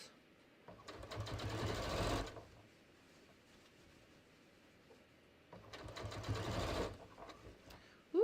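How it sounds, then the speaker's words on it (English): A sewing machine stitching denim for jeans runs in two bursts of rapid, close whirring about a second and a half each, with a quiet pause between them. "Hoping I have enough bobbin thread here."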